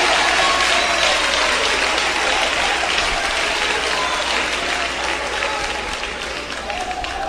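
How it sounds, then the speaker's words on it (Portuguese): Church congregation clapping hands in praise of Jesus, a dense, sustained roar of many hands applauding together, loud and steady, easing slightly toward the end. "Desocupem as suas mãos, batam palmas e glorifiquem a Jesus."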